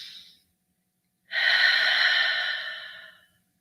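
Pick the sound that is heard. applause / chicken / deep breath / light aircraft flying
deep breath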